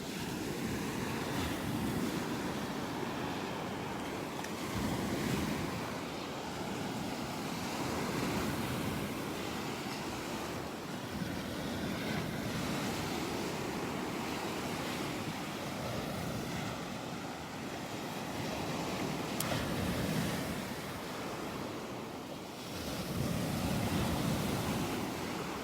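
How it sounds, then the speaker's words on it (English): Ocean surf breaking on a beach in North Naples, Florida, a steady broadband wash with slow swells and recurring louder surges roughly every several seconds, light wind noise on the microphone, and no voices. "One last look at the waves here,"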